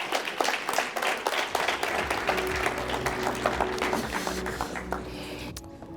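An audience applauds Theo Baloyi at a business event with lively, crisp clapping that builds and carries for several seconds, then thins out, with a brief voice underneath.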